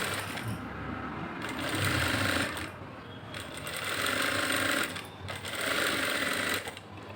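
A sewing machine stitches the lining of a blouse in a steady mechanical whir, running in three long bursts separated by short pauses, close and without talk.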